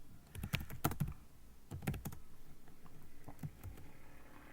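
Someone types on a computer keyboard at close range, with clustered bursts of crisp clicks, brief pauses and a lighter run of keystrokes near the end, and no voices.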